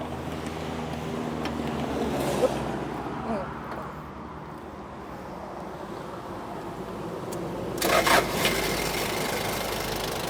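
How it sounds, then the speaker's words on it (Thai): Diesel engine of a Toyota 6FD25 2.5-ton forklift with a 1DZ engine idling steadily nearby, a low continuous rumble with a brief louder clatter near the end, while someone talks over it. "อันนี้สตาร์ทรถไว้อยู่นะฮะ"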